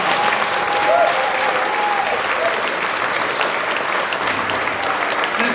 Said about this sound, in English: Can we give another round of applause for the Encore family?